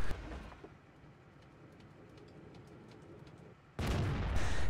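Tank gun firing a high-explosive round in an online tank game, a sudden loud blast near the end after a few quiet seconds of low engine rumble and ambience.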